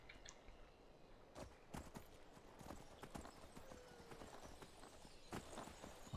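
Horse hooves clip-clop at a walking pace while riding in the video game Skyrim SE, crisp irregular strikes close by over a quiet outdoor background, with no talk.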